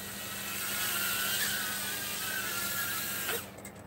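A drone hovers near a cat in a home setting, a steady high mechanical whine with layered tones that holds level for several seconds before cutting out abruptly near the end.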